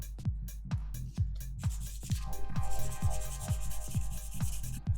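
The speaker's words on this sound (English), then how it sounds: "I'm going to just start filing them down a little bit" Press-on nails are filed with a handheld nail file in quick rhythmic back-and-forth strokes, a close, soft scratching repeated about twice per second.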